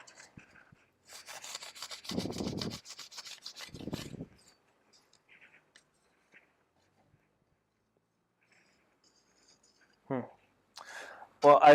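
A Scotch-Brite pad scrubs burrs off aluminum during deburring, making a few short, raspy rubbing bursts separated by near silence, with faint handling noises and a couple of brief knocks toward the end.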